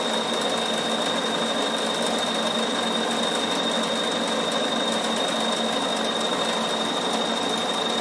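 A Bernina sewing machine stitches an embroidery design, a steady, continuous whirring drone with a constant high whine running throughout at close range, no talking.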